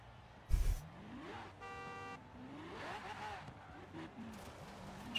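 A car horn in the racing video game Forza Horizon 4 sounds once as a short, buzzy honk of about half a second, amid quiet engine and game sounds, with a low voice talking faintly.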